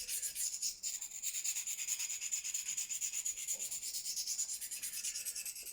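An LC200 steel knife is sharpened on a hand-held Venev diamond stone, giving steady, quiet, rapid rasping strokes close up with no talk.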